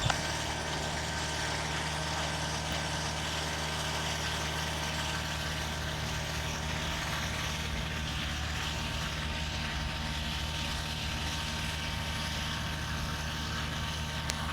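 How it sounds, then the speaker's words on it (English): An Air China Cargo Boeing 777 taxis past on the ramp at Chicago O'Hare, its engines producing a steady, even droning roar with a low hum underneath that holds constant throughout. "Here's our Air China Cargo Boeing 777 taxiing past here."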